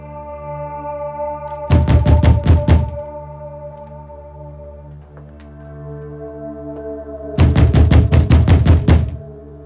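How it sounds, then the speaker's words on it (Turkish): Two bursts of rapid, heavy knocking on a palace door in an Ottoman-era drama, each a quick run of about six or seven loud thuds, separated by a quieter stretch over a sustained low musical drone. "Yıllardır şu kapı çalıyor."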